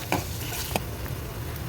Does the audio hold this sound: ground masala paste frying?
yes